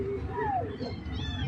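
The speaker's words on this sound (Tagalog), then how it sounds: "Ang itong nga iring kay miyaw sige." A cat meows repeatedly with rising and falling cries, close and clear, while a voice talks alongside and low background noise runs throughout.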